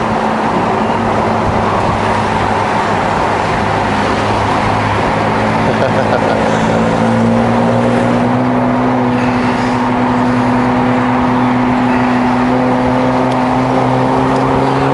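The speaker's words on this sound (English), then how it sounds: "That's a very healthy 996 turbo. Very, very healthy. Just look at the way it goes." A healthy Porsche 996 Turbo driving ahead on the road, heard from a following car: a steady, loud engine drone with rising tones and continuous road and wind rumble throughout, with a voice talking over it.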